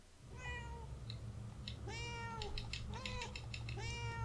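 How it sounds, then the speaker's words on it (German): A cat in the video game Murdered: Soul Suspect meows several times in clear, rising-and-falling calls, quiet but distinct over a low steady background hum. "Raus, Katze, raus hier!"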